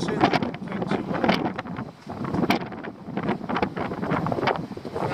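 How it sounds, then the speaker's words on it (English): Wind blowing across Girvan Pier in Scotland, a loud, gusty buffeting roar close on the microphone, rising and dipping in waves with no speech. "as soon as you get round that corner, that wind starts blowing in"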